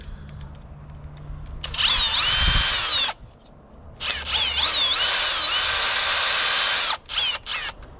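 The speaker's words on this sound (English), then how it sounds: "Now, we have the drill out. I'm gonna use a drill." A power drill drives a screw into a seat spacer, whining in two long loud bursts with rising pitch as it spins up, followed by a few short trigger pulses.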